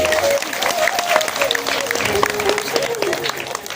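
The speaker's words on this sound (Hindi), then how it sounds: "एक बार तालियां बजाओ महाराज जी की।" An audience at a Bhagwat katha gathering claps for Maharaj ji. Brisk, crowded clapping rises and falls over a sustained musical tone, with some voices mixed in.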